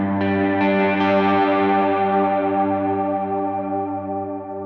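Sustained, shimmering guitar chord run through a pedalboard freeze effect with modulated delay and ambient reverb, a dense harmonic drone that holds steady and slowly thins out, with a few soft re-attacks early on and no talking.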